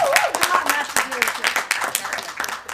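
Scattered clapping breaks out at a news conference on paid sick days legislation, distinct individual claps mixed with voices and talking.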